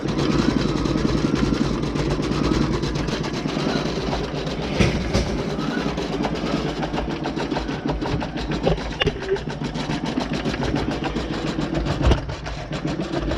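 A Bernette B79 sewing and embroidery machine running steadily, giving a continuous rapid mechanical clatter with a rhythmic needle pulse, close and fairly loud throughout.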